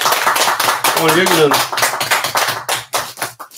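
Applause from an audience opening a lecture at Donghwasa temple, steady hand clapping filling the clip under a man's speech.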